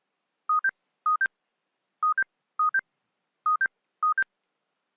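A phone notification repeats as paired electronic two-tone beeps in a regular pattern, each pair short and clean against silence, with no talking.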